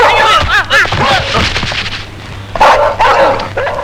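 A dog barks and yips in a Tamil film comedy scene, sharp repeated barks and whimpers mixed with a man's panicked cries, loud and close, with a low hum underneath.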